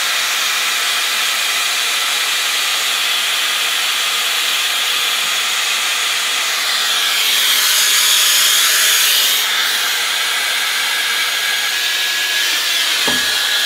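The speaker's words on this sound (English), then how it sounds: "Just continue to dry the rest of my hair." A Dyson Airwrap fitted with a diffuser attachment blows air through curly hair, making a loud, steady close-up hiss. The airflow swells briefly partway through and a faint whine rises near the end.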